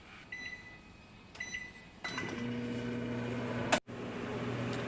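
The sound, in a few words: microwave oven running, heating salted pork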